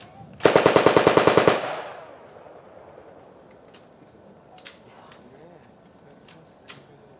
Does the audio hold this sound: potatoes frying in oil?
no